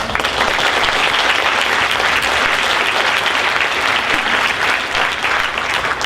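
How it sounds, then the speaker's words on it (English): A full room applauding at a senior scholarship awards night, dense sustained clapping that stays loud and even for several seconds with no talk over it. "So can we just do a little round of applause?"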